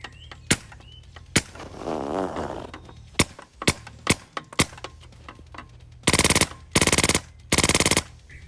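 A Polarstar Jack HPA airsoft engine test-fires on the bench, outside the rifle: scattered single sharp shots, then three short loud bursts of rapid automatic fire near the end.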